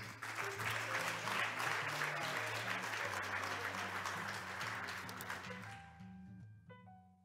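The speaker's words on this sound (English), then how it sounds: "a round of applause for Yuming Marine Transport Corporation, represented by Mr. Vincent Pua" Loud, sustained audience applause at a conference award ceremony fills the hall, a dense roar of clapping over a steady low musical bed, fading toward the end as a few clear tones ring out.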